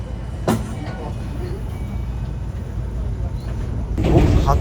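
A steady low rumble of a train running on a line near Kamakura, Japan, with a brief rattling burst early on and louder clattering near the end.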